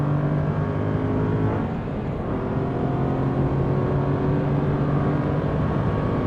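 A sports car accelerates hard onto the back straight of the Iberia race circuit, its engine a loud, steady, close roar with a rising tone partway through, sustained throughout with no talking.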